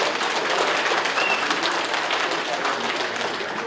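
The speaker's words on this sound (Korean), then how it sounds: "다시 한번 큰 박수 부탁드립니다" A crowd at a Korean political event applauds warmly after an orchestra's congratulatory performance, a thick, continuous wash of clapping at steady volume with a few faint voices mixed in.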